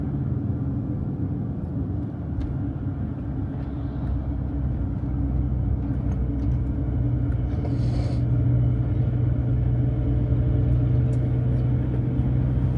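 A tour bus rolls along a road in Corfu with a steady, loud engine rumble and road noise throughout, occasional faint clicks and rattles inside the cabin.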